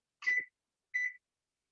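Kitchen timer being set beside a slow cooker, giving two short electronic beeps spaced under a second apart, clear and close in an otherwise quiet room.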